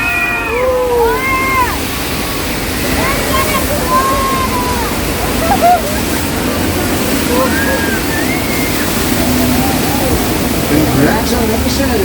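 Water splashes and pours at the Universal Studios Hollywood earthquake show on Soundstage 50, a loud, steady rushing wash filling the whole stretch, with crowd voices and squeals rising over it.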